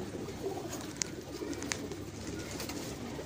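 Teddy breed pigeons cooing at close range, soft repeated throaty coos over a low background murmur, with a couple of brief sharp clicks and no speech.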